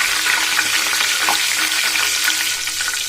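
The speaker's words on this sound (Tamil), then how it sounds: "முருங்கீரை போட்டா இப்போ ஒரு சவுண்டு வரும்" Drumstick leaves crackle and sizzle steadily in homemade ghee melting in a pan, a bright continuous frying hiss with small pops throughout.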